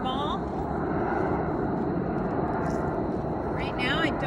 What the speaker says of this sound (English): Lots of plane action.